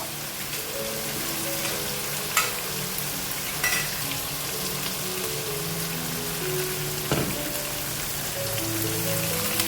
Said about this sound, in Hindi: अब हम इसका मसाले को थोड़ा सा भून लेंगे